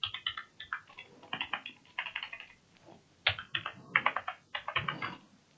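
Typing on a computer keyboard while entering text into a table for a salary slip, with quick bursts of close, crisp key clicks separated by short pauses.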